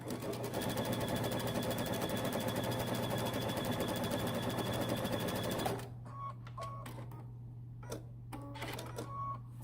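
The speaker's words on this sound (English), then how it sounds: "sew a 1/4 inch seam allowance" Sewing machine stitching a quarter inch seam on a half apron, a loud steady motor whir for about six seconds, then stopping and leaving a few short clicks and light handling sounds.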